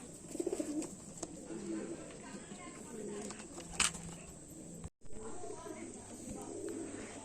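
Pigeons coo softly in a loft, with low repeated throaty calls and a few chirps. A voice can be heard faintly in the background.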